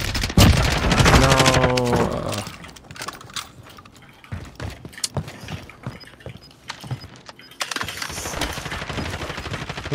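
Automatic rifle gunfire in Warzone on Rebirth Island, an M4A1: a loud opening burst of rapid shots, followed by scattered lighter shots and impacts that continue through the rest of the passage.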